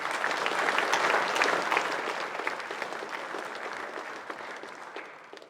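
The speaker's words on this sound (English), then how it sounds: "Could we get a round of applause for Arthur and his friends?" A round of crowd applause at a public meeting in Ashhurst, a dense, even wash of clapping from many hands that holds steady and then gradually fades.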